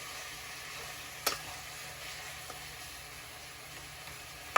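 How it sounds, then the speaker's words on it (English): Onions sautéing in a small amount of oil, a faint steady sizzle with a couple of sharp pops or stirring clicks, quiet and close. "Still just trying to break up these onions. And boom. We're gonna let that saute a little bit."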